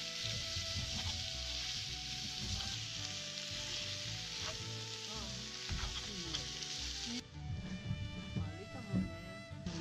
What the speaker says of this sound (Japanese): ジュージューしてる。